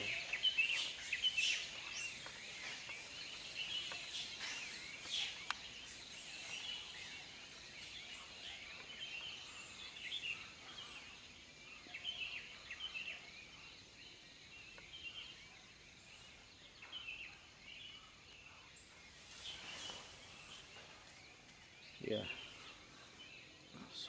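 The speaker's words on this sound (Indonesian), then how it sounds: "Suara satwa lereng Merapi ini tidak hanya burung-burung" Birds call faintly on the slopes of Mount Merapi, with scattered high chirps and tweets over a low outdoor hiss and a voice now and then.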